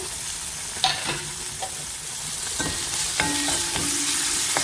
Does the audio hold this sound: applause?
no